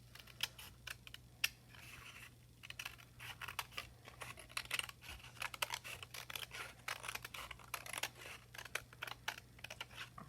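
Scissors snip their way around an inside shape cut from paper, giving close, irregular bursts of crisp clicks and rustles with brief pauses between cuts.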